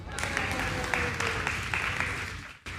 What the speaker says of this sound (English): Let's give Peter a round of applause